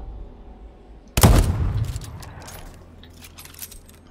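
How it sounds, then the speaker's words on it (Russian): A single loud gunshot in the video game Deathloop fires with a sharp crack about a second in, followed by a rumbling decay and a faint clatter as it fades. "Она, наверное, походу услышала выстрел"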